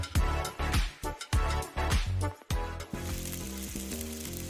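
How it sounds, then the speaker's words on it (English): Steak searing in its juices on a Weber Searwood pellet grill: bursts of close sizzling and crackle under a music bed, with the sizzle fading to a low hiss behind the music toward the end. "That's the sound of steak searing in its juices on your new pellet grill."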